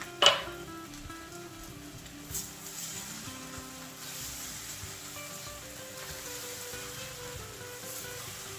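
An egg and green onions hit a hot wok, giving a brief sharp clatter and then a steady soft sizzle with occasional stirring scrapes, no voices.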